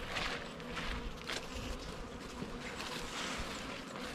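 Bees hum and buzz around a garden beehive, a dense continuous droning close by with no voices.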